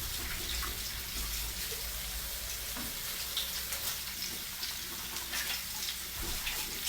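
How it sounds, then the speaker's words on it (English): Running water from a kitchen sink tap while hands are washed, a steady hissing splash, fairly quiet and continuous, with faint knocks and clatter in the background. "Washing my hands and coming back."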